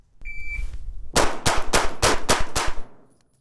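A Shadow Systems pistol fires a rapid string of about seven loud, sharp gunshots at a steady cadence, preceded by a brief electronic beep of a shot timer.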